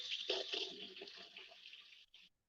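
Tap water runs while a piece of food is rinsed beneath it, making a soft steady splashing hiss that breaks up and stops near the end.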